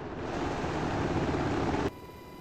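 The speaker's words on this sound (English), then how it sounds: "The helicopter should take off vertically." Simulated UH-60L Black Hawk helicopter lifting off vertically in a flight game, a broad steady rotor and turbine roar that cuts abruptly to a quieter hum near the end.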